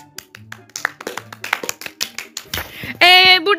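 A few sharp, crisp claps and taps ring out in an Among Us–style Roblox Impostor game, scattered irregular hits mixed with short game sound effects and a bright tonal jingle at the end.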